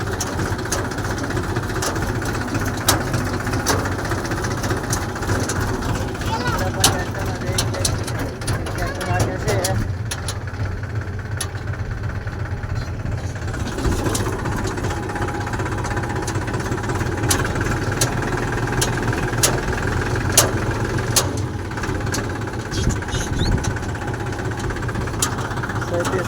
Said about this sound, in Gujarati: લાગે છે ટ્રેક્ટર